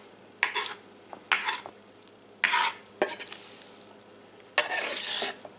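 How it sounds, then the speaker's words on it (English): A sharp knife slicing through pineapple rind on a cutting board, several separate crunchy cutting strokes with short pauses between them, close and fairly crisp. "Now I'm going to cut a piece of this pineapple rind off."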